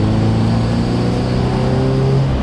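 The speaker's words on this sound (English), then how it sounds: "Are you guys ready for my favorite exhaust startup?" Subaru BRZ with an aftermarket exhaust running right after startup, a close, steady low droning rumble with no break or rev change across the short stretch.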